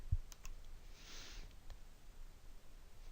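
A few faint, sparse mouse clicks sound while menu settings are changed on a computer, set against a quiet room hiss.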